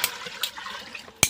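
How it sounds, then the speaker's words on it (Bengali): Water is poured into a cow's feed during winter, sounding as a soft, close trickle and splash with a sharper burst of liquid near the end. "একটু জল দিয়ে দিই"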